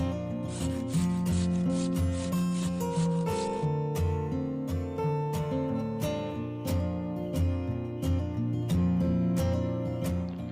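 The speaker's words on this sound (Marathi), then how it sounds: "आता हे सर्व बटाटे खिसणीने खिसून घेऊया." Potatoes are rubbed against a hand grater, giving a dense rasping scrape for the first few seconds under continuous background music.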